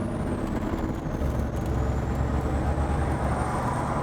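A heavy truck engine in a driving video game drones steadily at low pitch while accelerating, with a faint high whine slowly rising, continuous and fairly loud with no talk.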